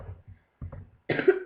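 A person with a cold coughs a few times, a short cluster of rough bursts followed by a louder, harsher cough near the end, close and with no talking.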